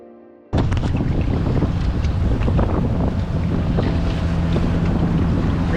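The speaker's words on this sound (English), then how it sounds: "we've got quite a headwind with some now good rain" Strong headwind with rain on a river during the MR340 canoe race roars across the microphone, a loud continuous buffeting rumble that starts abruptly and holds steady with no voices.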